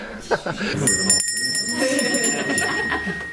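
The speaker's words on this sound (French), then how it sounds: "J'ai entendu une cloche." A bright bell rings at a high school in Nice, with sustained high tones ringing out over a murmur of voices and room chatter.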